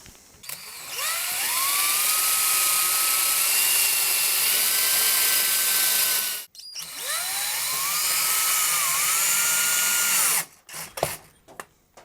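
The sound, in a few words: drilling a small hole in wood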